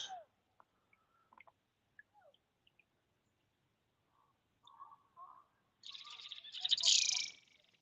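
Loud, harsh bird calls burst out near the end, a scuffle of squawks between the birds after a quiet stretch of scattered faint chirps, out on the water by a kayak.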